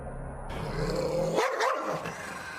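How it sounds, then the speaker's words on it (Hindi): A dog barks and growls loudly a few times in close succession, rough and agitated, with no talk. "जोर जोर से भौंकने लगता है"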